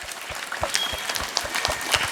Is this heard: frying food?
no